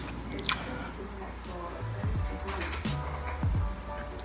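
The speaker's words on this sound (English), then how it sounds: "I don't like the sounds they be making when they eat" A mukbang eater chews food loudly and close up, with wet squishes and bites coming in irregular bursts over a low background murmur.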